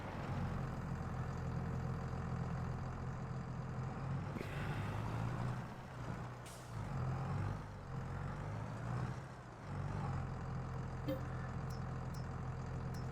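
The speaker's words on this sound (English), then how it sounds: "I will use the higher powered tractor though." A higher-powered tractor engine in Farming Simulator 22 drones steadily at a low idle-like rumble, fairly quiet and continuous, with a few brief shifts and clunks in the middle.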